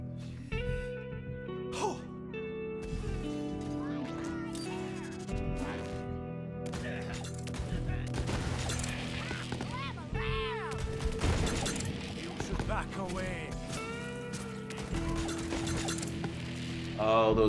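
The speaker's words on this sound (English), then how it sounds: "Oh, those radiation explosions are so beautiful." Rapid bursts of synthetic blasts and mechanical clatter from radiation explosions in Borderlands 3, with layered electronic tones and whooshing effects throughout.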